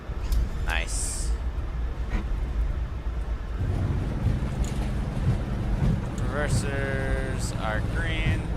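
On an iFly 737 MAX 8 landing in Microsoft Flight Simulator 2024, the thrust reversers give a continuous, rushing roar that builds partway through, while people talk over it.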